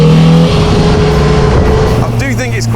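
An MGB roadster's B-Series four-cylinder engine runs steadily with a low, continuous drone close by, while a person talks over it throughout.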